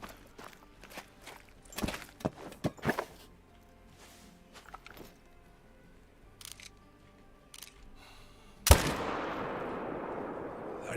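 Several sharp hunting-rifle gunshots ring out in theHunter while stalking mule deer, spaced a few seconds apart over faint ambient sound, with a louder, longer burst of noise near the end.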